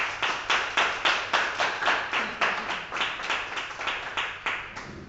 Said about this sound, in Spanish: un aplauso a Miguel